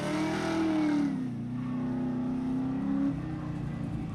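A bright green 1970 Chevelle race car accelerates on a track, its mid-pitched engine rising in a smooth rev, then holding a steady drone as it carries on at speed.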